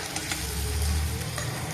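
Eggs frying in hot oil in a pan for egg biryani, giving a steady close sizzle and crackle throughout with no talking.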